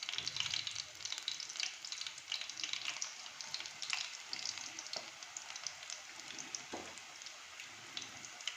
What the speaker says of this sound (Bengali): গ্যাসটাকে কম করে দিয়ে ধীরে ধীরে ভাজলে অসাধারণ স্বাদের পুঁটি মাছের পকোড়া